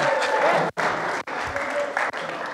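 An audience in a church claps loudly for the actors of a Christmas play, a dense, close round of applause that runs throughout with a couple of brief breaks.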